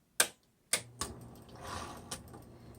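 A 1960s Smith Corona Coronet Auto 12 electric typewriter with a script font clacks through a few sharp, spaced key strikes over its faint motor hum, close and alone.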